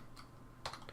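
A computer keyboard clicks as a command is typed in Minecraft, a handful of quick, faint keystrokes with one sharper tap near the end, no voice.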